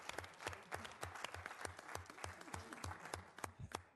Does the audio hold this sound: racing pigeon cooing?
no